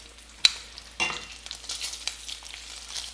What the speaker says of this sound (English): while I'm cooking the bacon